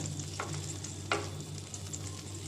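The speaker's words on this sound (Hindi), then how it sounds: "पैन में डालेंगे हम 1 टेबल स्पून बटर।" Butter, a tablespoon of it, melts in a pan before bread slices go in to toast, giving a steady soft sizzle with a few faint clicks over a low kitchen hum.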